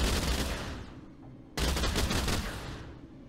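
Enemy gunfire in the first-person shooter STRAFE: a loud, dense burst of rapid shots that fades, then a second sharp burst cuts in and rattles on close and harsh.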